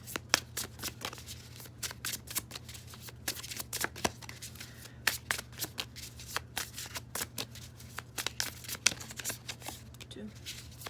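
A deck of tarot cards is shuffled close up in quick, repeated riffles and snaps that run steadily throughout, with a voice talking under the shuffling.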